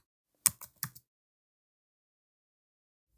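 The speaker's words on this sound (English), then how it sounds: "we can go back into the code and now type alt" A few quick clicks of computer keyboard keys as HTML code is typed, four short taps in under a second, followed by silence.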